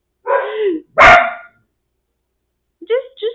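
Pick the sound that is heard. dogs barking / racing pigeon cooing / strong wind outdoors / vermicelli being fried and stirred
dogs barking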